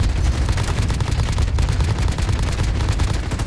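LMG machine gun firing in Modern Warfare survival mode, a dense, sustained rapid-fire burst, loud and close with no pauses, alone without talk.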